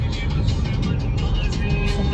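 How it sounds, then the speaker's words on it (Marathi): Car interior on a highway road trip toward Solapur, with a steady, loud low road and engine rumble and tyre noise throughout. "मी एकटाच फक्त गाडी चालवतोय"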